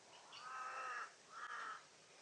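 Crows give two drawn-out, harsh caws in succession, fairly distant and faint against quiet outdoor background, with no talking.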